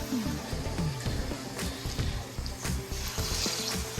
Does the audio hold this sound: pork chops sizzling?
yes